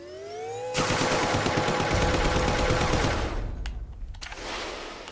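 A cannon in a video game fires a rapid burst of loud, crackling blasts that go on for about three seconds after a rising tone, then cut off into quieter game noise.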